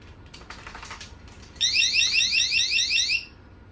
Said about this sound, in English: we're gonna adjust the alarm volume by pressing the button twice